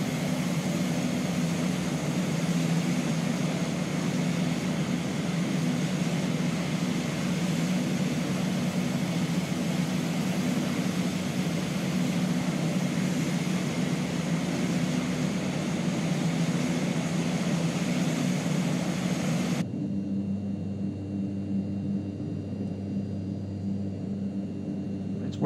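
Steady propeller drone of a Mitsubishi MU-2 twin turboprop in Microsoft Flight Simulator 2020, a constant loud engine hum holding for about twenty seconds before dropping to a quieter, duller tone near the end.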